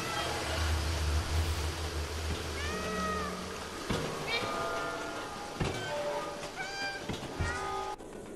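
A cat in the video game Stray gives several short, clear meows with rising and falling pitch over steady ambient game background noise.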